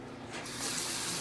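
Running kitchen tap water gushing steadily into a sink as sticky rice is rinsed, starting softer and then swelling into a loud, continuous splashing flow close by.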